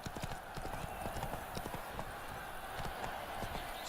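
Hooves of Roach, the horse in The Witcher 3, clip-clop in a steady galloping rhythm, close and continuous throughout, with game ambience underneath.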